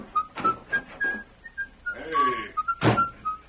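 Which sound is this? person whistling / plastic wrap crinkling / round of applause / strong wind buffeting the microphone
person whistling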